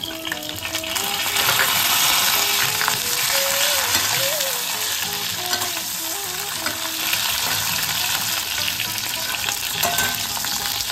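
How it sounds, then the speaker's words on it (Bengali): Nigella seeds and dried red chillies tempering in hot oil, then flat beans added and frying in a pan for dal with bottle gourd: a loud, continuous, close sizzle with occasional stirring and clinks. "আর কালো জিরে ফোড়নে দিয়ে দিলাম। ফোড়ন থেকে যেই সুন্দর গন্ধ বেরোবে তখন আমরা কিছু শিম দিয়ে দেবো।"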